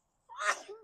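A single sharp sneeze, close and fairly quiet, bursting out after a moment of silence and trailing off quickly.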